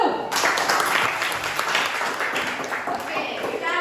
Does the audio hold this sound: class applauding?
yes